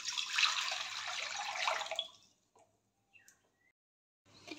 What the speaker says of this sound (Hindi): एबे एथरे पानी को ढाली नबा।